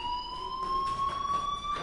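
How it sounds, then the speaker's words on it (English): A fire alarm rings in the PS4 game Life is Strange, a steady electronic high tone held continuously, with faint pulsing accents and no speech over it. "do you hear that fire alarm? That means you should be outside."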